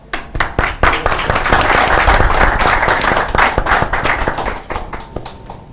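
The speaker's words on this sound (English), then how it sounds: "let's kick-start the session with a round of applause for you guys" An audience at a corporate talk show on entrepreneurship gives a round of applause, loud, close, dense clapping that starts abruptly, holds steady, then thins out toward the end, with no speech over it.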